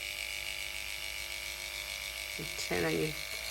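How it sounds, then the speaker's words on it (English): An electric dog clipper runs with a steady, close electric hum for the whole stretch, and a voice briefly speaks over it near the end. "So you want your clipper to be turned on when you seat the blade"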